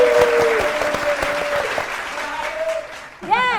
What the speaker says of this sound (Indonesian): kita kasih tepuk semangat dulu untuk dua tim